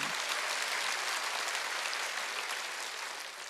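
Brief burst of applause from a church congregation at a Korean Wednesday worship service, a dense even clatter of many hands that stays fairly loud and fades slightly at the close, with no talk over it.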